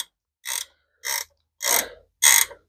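Four short, evenly spaced bursts of ratcheting click on an aluminum intake bolt of a Pontiac engine, each burst a few tenths of a second long and growing slightly louder, with nothing heard in between.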